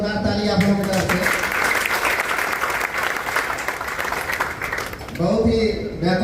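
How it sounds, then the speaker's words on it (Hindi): Audience applause for an invited guest at a Hindi-language seminar on real estate success: a loud, sustained wash of clapping that rises after a man's brief opening words and fades as his voice returns. "सबसे पहले हम मेहताब साहब के लिए चाहेंगे कि जोरदार ताली आप लोगों की तरफ से।"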